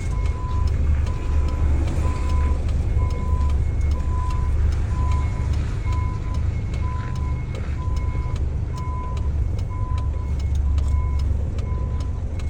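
A truck descends the Pak Thong Chai mountain road unloaded in fourth gear, with a constant heavy engine drone and a regular beeping chime repeating about every second over the full length, no voices.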